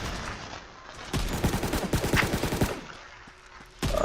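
Gunfire in a shooter video game sounds as a rapid burst of automatic shots, sharp and close, followed by a quieter pause and then another single loud shot, with no talking.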